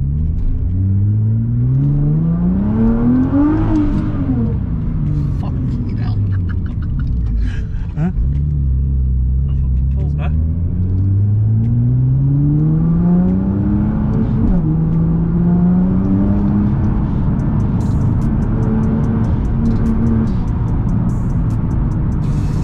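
An 800bhp Nissan GTR engine pulling hard from inside the car, rising and falling through several loud rev sweeps with gear changes between them, a deep continuous rumble throughout.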